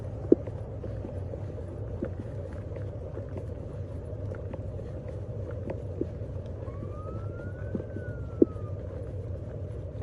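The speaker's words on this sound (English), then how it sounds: "I heard a siren." A faint, distant emergency vehicle siren briefly rises and falls along US Highway 50 near Eureka, Nevada, over a steady low roadside rumble with a few scattered footsteps and clicks nearby.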